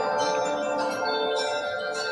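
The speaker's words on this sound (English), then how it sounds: "Well, now it's just my wind chimes." Wind chimes ring softly outdoors in a steady, sustained shimmer of overlapping metallic tones, with no distinct strikes standing out and no voices.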